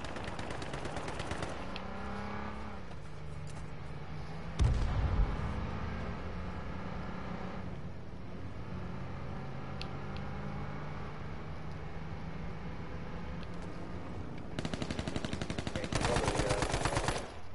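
Fast bursts of gunfire rattle in a game firefight, with loud rapid volleys at the start and again near the end and engine drone between them.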